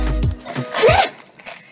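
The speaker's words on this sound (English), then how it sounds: "So you've got this main zipper pouch here." The main zipper on a slim convertible hip bag is pulled open in one short, close rasping stroke, with a few soft handling rustles around it.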